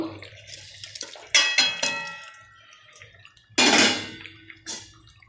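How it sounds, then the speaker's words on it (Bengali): Pieces of stingray fish drop into curry already boiling in a pot, giving a few sharp splashes and hisses with bubbling and clinks between them, close by and fairly loud. "তো ঝোল ফুটে গেছে, এবার মাছগুলো দিয়ে দেব।"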